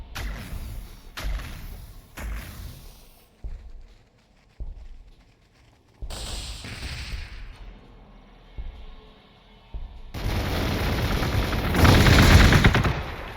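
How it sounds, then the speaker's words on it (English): Bolter fire in Warhammer 40K Gladius Relics of War, heard as sharp repeated shots in short volleys, then sparser single reports, ending in a louder sustained barrage with rumbling impacts, no talk. "I can take out killicans with fucking bolter fire."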